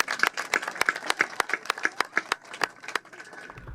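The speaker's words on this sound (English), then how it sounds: "Let's give him another round of applause." A crowd applauds at a park grand reopening ceremony, a run of sharp, irregular claps over several seconds that thins out and fades toward the end.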